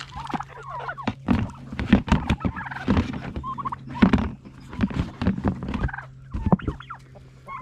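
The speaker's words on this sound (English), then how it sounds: "All right, come on, turkeys." A flock of turkeys gobbling and clucking nearby, overlapping bursts of rapid warbling calls with no talking.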